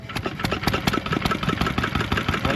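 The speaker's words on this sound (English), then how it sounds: "hold the choke shut and give it a couple cranks and see if it fires." An antique engine, choked and cranked at the Midwest Old Threshers show, fires up and settles into a steady rapid popping run, loud and close, alone without voices.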